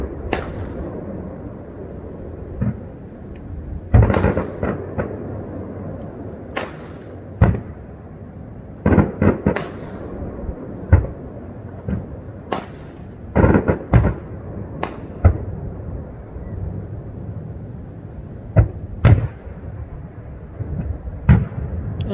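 Independence Day eve fireworks over Devils Lake in Lincoln City, Oregon, booming in irregular bursts, some loud and close, others softer, with echoes rolling across the lake between blasts.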